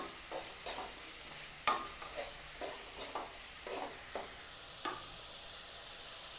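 Green chili and onion frying in hot coconut oil, a steady close sizzle punctuated by repeated spatula scrapes and one sharp clack against the pan, no voices.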